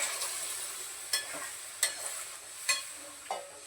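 Hot water, cooked peas and fried paneer go into a pan of frying spices, which keeps up a steady sizzle broken by four or five distinct scraping stirs of a spoon.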